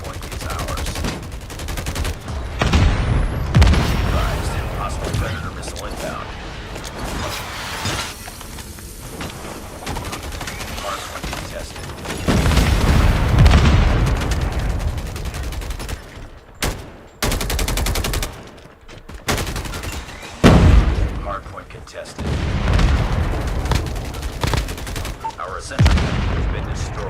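Predator missile strike and rapid gunfire in Call of Duty Mobile, loud bursts of automatic fire and heavy booms coming in waves with brief lulls, with voice announcements in between.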